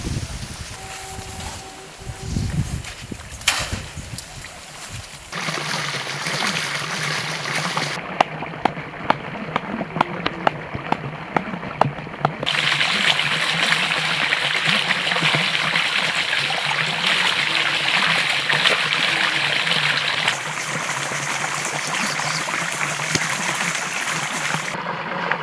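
Irrigation water running along a field channel in a village, a continuous broadband rush and trickle that persists throughout with some wind noise on the microphone.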